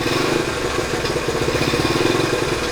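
A shed-find Honda Trail 90 motorcycle engine idling close by, a steady, loud, rapid putter with a slight even flutter that holds without dying out.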